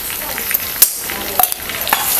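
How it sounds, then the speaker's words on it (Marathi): Gram flour roasting with garlic in a pan, a soft continuous sizzle with scraping stir strokes and light clinks of a spoon at close range. "बेसन पीठ सुद्धा आहे ना आपल्याला चांगलंसं आहे ना परतून घ्यायचं"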